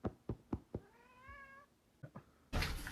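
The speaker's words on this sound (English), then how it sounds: "I'm trying to get this cat." A cat lets out a single drawn-out meow between several sharp knocks, close and fairly quiet, followed by a sudden loud burst of broadband noise at the end.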